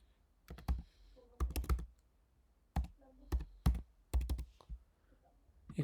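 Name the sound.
typing on a computer keyboard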